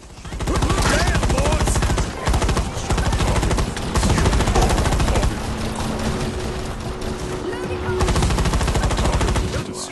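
Weapon fire in a Firefall incursion battle: dense, sustained rapid gunfire that stays loud and continuous throughout, with brief dips and game effects layered underneath.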